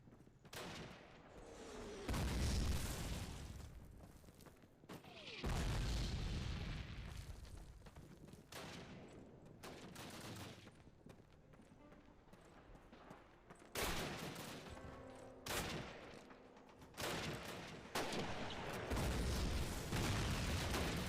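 Gunfire in the original 2003 Call of Duty game, with repeated bursts of rifle and machine-gun fire and booming shots separated by short pauses, loud and up close, with no voices.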